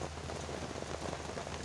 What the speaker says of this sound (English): it has been pouring